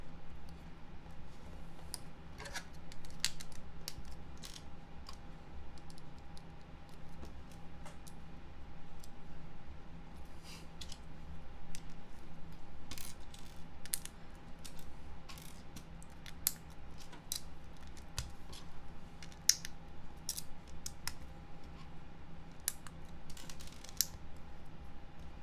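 Plastic LEGO bricks from a Star Wars set snap and click together during a build, giving a steady scatter of small, close, sharp clicks over a quiet background hum.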